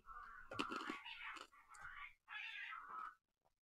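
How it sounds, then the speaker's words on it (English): Cats yowling and caterwauling in a fight outside a house, a series of loud, wavering meows and screeches in several bursts with brief gaps, heard alone without talk. "Dadgum cats are fighting outside my house."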